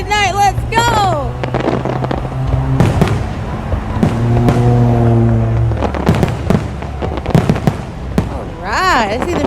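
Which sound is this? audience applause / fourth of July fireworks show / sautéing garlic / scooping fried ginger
fourth of July fireworks show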